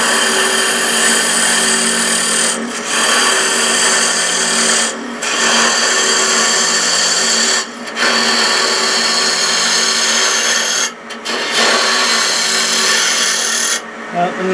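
A wood lathe spins as an 8mm carbide tool cuts the bottom edge of a turned piece, giving a loud, steady scraping whir broken by several short pauses between passes.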